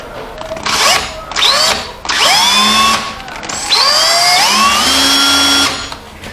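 An old electric screwdriver, idle for years, whirs in several repeated bursts while wired loosely to a notebook power supply, its motor pitch rising and falling with each trigger pull, loud and close.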